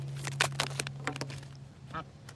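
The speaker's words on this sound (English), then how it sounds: "the duck is like, every time I get near him, he makes a loud noise" A duck lets out a loud series of honking quacks close by, a few sharp bursts over a low steady hum, with a brief fainter call near the end.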